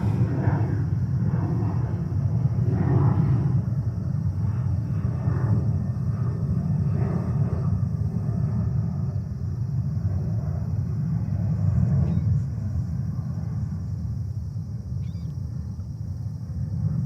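A Frontier Airbus A321neo jet in polar bear livery at JFK airport gives off a steady, distant low roar that swells and eases slightly, with no one speaking.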